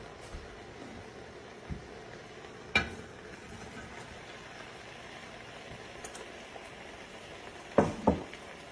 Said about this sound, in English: now I'm going to start adding in my peppers and my onions